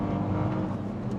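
Ferrari 296 Speciale sports car driving, a smooth steady engine hum with faint harmonic whine under it, brief and continuous, no talking.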